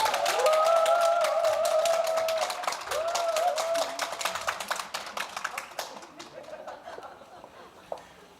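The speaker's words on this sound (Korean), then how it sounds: "박수로 환영해 주시기 부탁드리겠습니다" Audience applause at an international academic conference on human care welcomes a presenter: a dense burst of clapping with a tonal voice-like sound over it early on, thinning to scattered claps before fading out.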